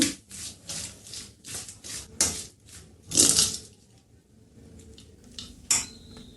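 A spoon scrapes and clatters in a pan while papad chutney with half a spoon of cumin is mixed off the heat, with irregular metallic scrapes and knocks, some louder strikes, close by and without speech.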